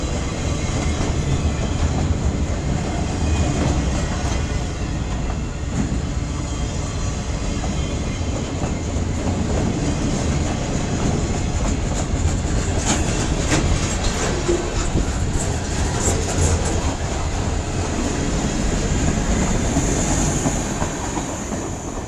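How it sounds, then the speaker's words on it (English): A CSX eastbound mixed freight train rumbles past at close range, a loud steady roar of wheels with rhythmic clickety-clack over the rail joints and occasional metallic squeals. "CSX M316-07, eastbound mixed freight train"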